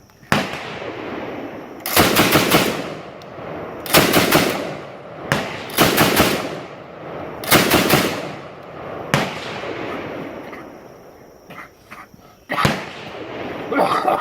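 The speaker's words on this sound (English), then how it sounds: "I'm just going to throw this thing full auto like this." A fully automatic firearm fired at an old dead tree during a Knob Creek jungle walk, with several loud, close bursts of rapid shots separated by short pauses and echoing outdoors.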